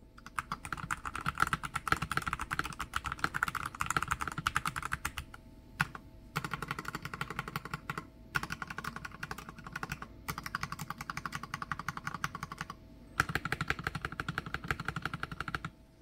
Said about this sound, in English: Here is a quick sound test for you.